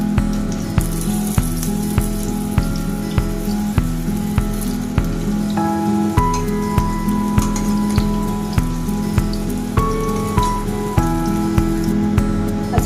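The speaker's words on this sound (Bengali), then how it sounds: "আমি এই তেলেই আলুটা ভাজতে দিয়েছি।" Potatoes fry in oil inside a pot with a steady, crackling sizzle, close and even throughout, with faint regular clinks in the background.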